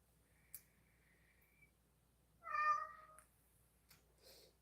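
A cat gives one clear, fairly close meow in a quiet room, followed by a softer, shorter mew a moment later, with a few faint clicks between.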